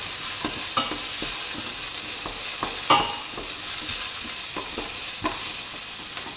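Onions fry with a loud, continuous sizzle in a pan for spaghetti bolognese, punctuated by close, irregular scrapes and clacks as they are stirred, with no talk.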